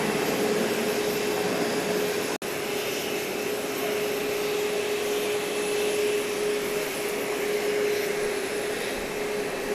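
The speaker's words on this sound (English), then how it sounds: "there's a plane rocketing into the sky." A jet plane takes off at Grand Cayman, a loud, steady engine roar with a droning whine that holds throughout without fading, and no voices.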